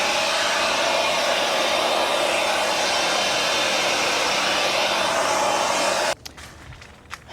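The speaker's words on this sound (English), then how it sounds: "It's a blower and a vacuum. It's battery operated." A battery-operated blower blowing dirt whirs in a loud, steady, high-pitched rush, then cuts off abruptly near the end, leaving faint clatter and handling sounds.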